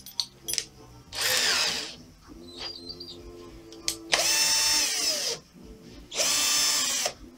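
A Power Plus electric drill running in first gear to bore a hole, close and loud, in three sustained bursts of whirring with a brief whine between them.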